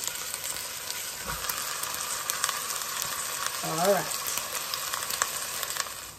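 Ground meat sizzling in a pan while being broken up, a continuous close frying hiss with scraping and stirring taps and a brief vocal sound midway.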